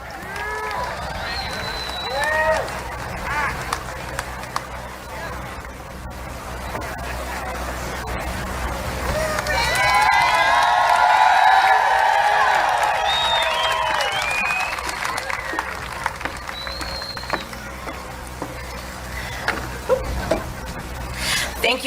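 A large outdoor crowd rumbles and cheers at a presidential campaign rally in Carson City, Nevada, a steady distant roar that swells in the middle with scattered shouts and whistles.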